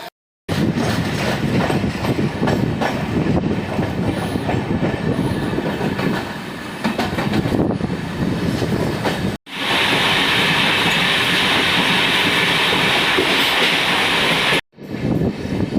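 The Sadbhavana Express, with new LHB coaches, pulls out of Dighwara station in a loud, close rumbling roll with rhythmic clatter of wheels over rail joints and occasional squealing, interrupted by two short breaks.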